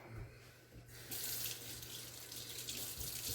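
A running kitchen tap rinses something under its stream: a soft trickle swells into a steady, hissing flow of water into the sink, close and continuous for a few seconds, with a low hum beneath and no voices.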